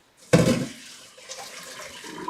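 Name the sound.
water draining from a stainless steel colander in a sink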